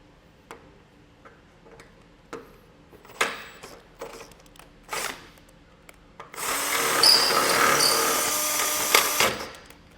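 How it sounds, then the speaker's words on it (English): A power drill bores out a hole in a Curt custom base plate on a 2017 Chevrolet Equinox, a steady loud whir running for about four seconds near the end, after scattered light clicks and taps. "we're going to go ahead and drill out this hole and get our bolt installed."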